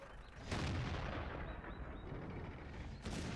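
Heavy tank cannon fire from a Type 62 in a tank battle video game, a loud booming blast near the start followed by rumbling battle noise and another blast near the end.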